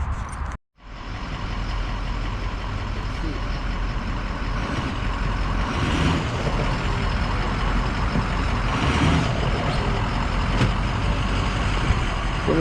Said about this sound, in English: I'm gonna pull forward, roll this damn thing off this trailer